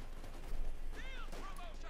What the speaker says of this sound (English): Bit of shooting here